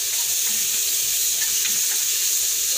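Pork menudo ingredients sauté in hot cooking oil, a steady, close sizzle and frying crackle that runs without a break.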